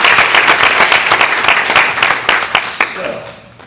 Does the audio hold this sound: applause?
yes